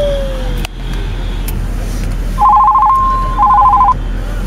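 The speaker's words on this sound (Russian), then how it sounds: "Не заметил, он звонит." Telephone ringing indoors: two clear electronic ring bursts in the second half, steady tone pulses separated by a short gap, over a low background hum.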